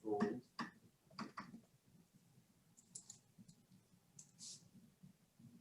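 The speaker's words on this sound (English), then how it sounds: "Typing this into my calculator" Calculator keys are tapped in a quick cluster of sharp clicks, then a few lighter taps follow, close and quiet against a faint background hum.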